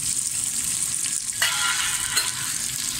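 Onions and four garlic cloves frying in a little oil in a pan, a steady close sizzle throughout with a couple of brief stirring scrapes, no talking.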